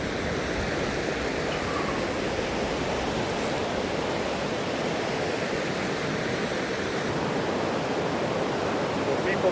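River water flows on a hike with a constant broadband rush, close and loud, and holds steady throughout without pauses.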